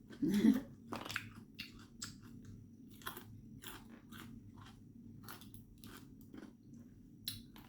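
Close, crisp biting and chewing of large fresh mussels, with a sharp crunch near the start followed by a series of quick crunchy bites and chews in a quiet room.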